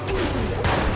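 Rapid gunfire from the video game Watch Dogs, a loud close burst of repeated shots running through the whole second, with a voice faintly underneath.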